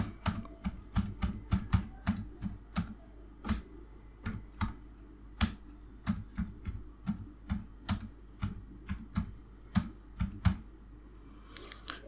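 Text typed on a computer keyboard, close up: irregular bursts of sharp clicky keystrokes with short pauses between words, and no talking.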